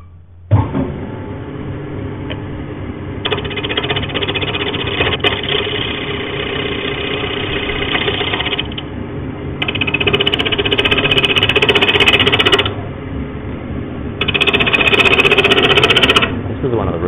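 A wood lathe spins a solid timber bowl blank while a tool trues up its face, a steady motor whine with a harsh scraping cut that swells and drops in bursts as the tool engages and lifts.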